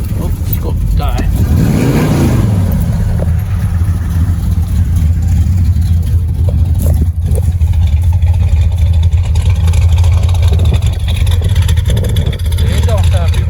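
A 1978 Chevrolet Nova Rally engine idles steadily at close range, a low rumbling drone running throughout with a brief dip in the middle.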